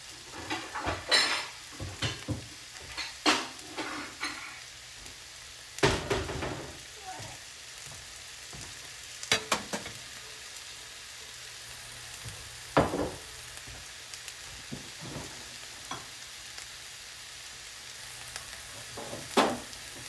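Vegan stir fry with mushrooms sizzles steadily in a pot while being tossed, with a constant low fry broken by intermittent scraping and clanking of a utensil against the pot, fairly quiet and close.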